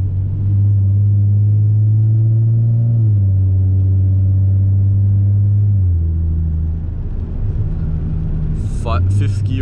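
A Ford Mustang 3.7-liter V6 with 305 hp drones loudly from inside the cabin, its pitch stepping down in distinct stages as the gears drop, followed by a brief higher-pitched sound near the end.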